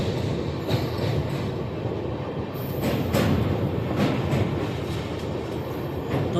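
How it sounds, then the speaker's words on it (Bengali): A train crosses a rail bridge over the broad Rupnarayan river with a loud, steady rumble of wheels on track. Rhythmic clickety-clack beats and faint metallic squeals ride over the continuous roar. No voices. "আমরা রূপনারায়ণ নদী পার করার জন্য রেল ব্রিজের উপর উঠে গেছে"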